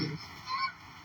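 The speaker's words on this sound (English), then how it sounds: "I love seeing the geese because, believe me," Geese honking in British Columbia, a short burst of nasal honks, clear and moderately close.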